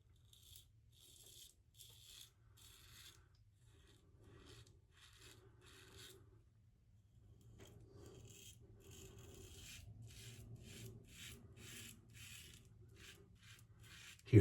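Rockwell T2 safety razor set to 3, dragged across a wet face: a series of close, rhythmic rasping scrapes in short strokes with brief pauses, the strokes quickening and growing slightly louder toward the end.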